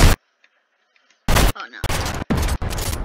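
Gunfire from a sniper in a video game: several loud, sharp bursts of shots close together, broken by brief silences, with a short spoken exclamation between them.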